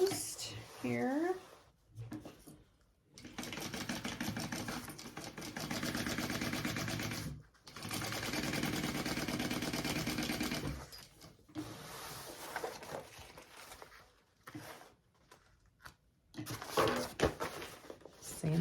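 A sewing machine stitches a bag closed in a home sewing session, running in several bursts of steady mechanical whirring separated by short pauses, close and fairly loud, with a voice speaking briefly in places.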